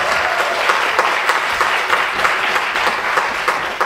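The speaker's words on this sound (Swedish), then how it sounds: "Och det skulle jag gärna vilja att vi provar att applådera en gång för dem." Audience at a vegan lecture event in Gothenburg breaks into applause, a loud, even wash of many hands clapping for several seconds, close and continuous with no talk over it.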